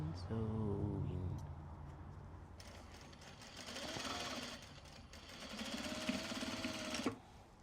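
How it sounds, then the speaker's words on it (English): Sewing machine stitching Japanese fabric bags, fast rattling bursts of stitching separated by short pauses, close and clear, with brief faint voice sounds. "Sewing, sewing, sewing."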